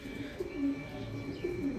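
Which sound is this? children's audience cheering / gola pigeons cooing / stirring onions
gola pigeons cooing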